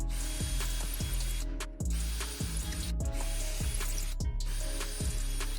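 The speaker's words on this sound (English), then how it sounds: "So I'm gonna go ahead and drill these holes real quick." A power drill whirs in short repeated bursts, drilling holes in a charcuterie board, each spinning up and winding down, about eight times in a steady rhythm, close and loud, with no talking.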